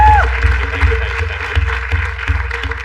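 An audience claps for a mimicry performer, producing a short burst of applause with crowd noise over a steady rhythmic backing.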